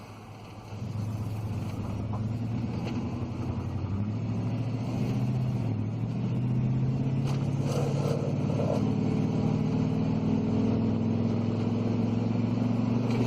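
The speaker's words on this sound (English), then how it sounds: "Can you hear that engine purr?" A 1997 Chevy Silverado 1500 4X4 engine runs steadily, a low continuous hum from inside the moving truck that rises slightly in pitch as it goes, with no talking.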